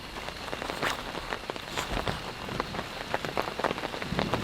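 Heavy storm rain pelting a large pop-up camping tent, dense irregular patter of drops drumming on the fabric up close, steady and loud with no voices.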